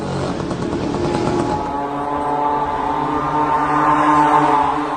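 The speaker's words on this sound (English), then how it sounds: "This is a small moped engine, or scooter engine sourced from China, at a cheap price." A small, cheap Chinese moped or scooter engine powering a kamikaze drone runs with a steady, buzzing, harmonic drone, loud and close, its pitch shifting slightly early on and then holding steady.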